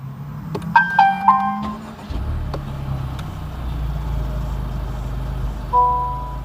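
A Honda Civic Type R starts up: a few electronic chimes sound first, then the engine catches and settles into a steady low idle rumble.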